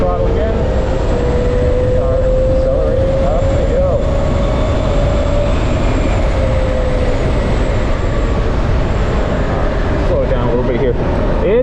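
A Ryvid Anthem electric motorcycle pulls hard up a steep hill, its motor whine rising steadily under loud wind rush, with a rider speaking over it.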